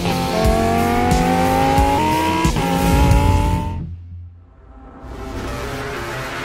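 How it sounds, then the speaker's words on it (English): Lamborghini Huracán Tecnica engine revs hard, its pitch climbing steadily before cutting off abruptly, then a fainter rush of engine noise returns as the car pulls away. "He drives a Lamborghini Huracán Tecnica"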